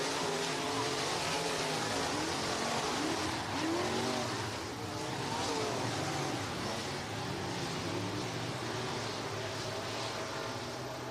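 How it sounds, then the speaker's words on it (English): Race cars circling an oval dirt track at a night racing event, a continuous loud engine roar with rising and falling revs as the field passes down the back straightaway, heard from a distance without foreground voices. "Down the back straightaway, Drew Jansen, your race leader out of Pella, Iowa, out front, followed by Joyner and Becerra."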